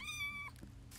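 A cat meows in the Minecraft video game, a single short tonal meow lasting about half a second, followed by soft rustling game ambience, no talk.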